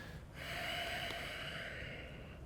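A single long exhale during yoga practice, a breathy nasal rush that starts abruptly and holds steady for about two seconds, close and soft, with no talk.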